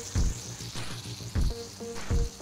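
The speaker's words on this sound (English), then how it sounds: "Listen to that sizzle." Bursts of sizzling and fizzing recur in short pulses about every second, close and fairly loud, with brief tonal chirps between them.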